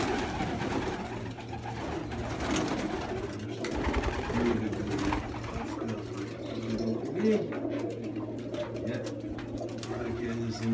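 Pigeons coo repeatedly at a dovecote, a steady murmur of low throaty calls close by, with some faint background noise and a few spoken words from a person.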